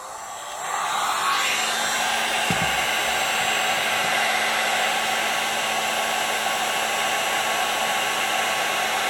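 A heat gun blows steadily to shrink quarter-inch heat-shrink tubing over repaired MacBook charger wires, a loud continuous airy roar that starts after a short quiet moment and holds unchanged to the end.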